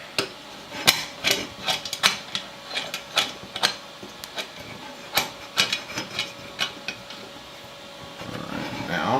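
Hand tools work on bolts and fittings while a HyperCube 3D printer frame is assembled, making a string of sharp metallic clicks, taps and ratcheting ticks at close range in irregular bursts, with a faint hum underneath and no talking.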